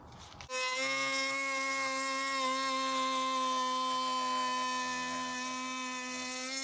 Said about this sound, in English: You want to move the router in the correct direction according to the spin of the bit.